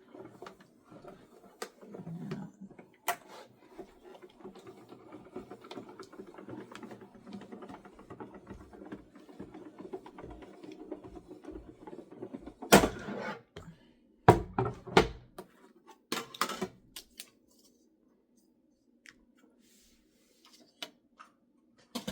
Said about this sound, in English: Feed it through my die cut machine.